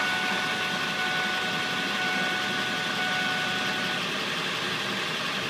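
A Ford 7.3 Powerstroke diesel truck engine with a fuel restriction and lacking power idles steadily, giving a constant low rumble and a faint whine tone, with no talking.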